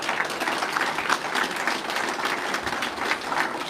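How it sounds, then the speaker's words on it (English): A keynote crowd at a mining conference gives its servers a round of applause, a continuous, even patter of many hands clapping throughout with no speech over it. "Let's give a big round of applause one more time for our servers working so hard."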